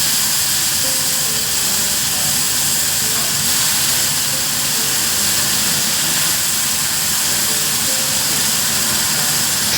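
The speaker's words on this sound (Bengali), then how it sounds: "সামুদ্রিক মাছ তো তাই কাঁচা করলাম না একটু ভেজে তারপরে রান্না করব" Bombay duck (bombil), a sea fish, frying in a hot wok of oil, making a loud, steady, roaring hiss that fills the whole stretch without pause or voices.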